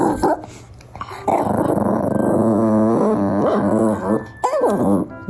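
A dog growls and vocalizes in long, up-and-down grumbling moans, close and loud, with short pauses and a final rising whine-like growl.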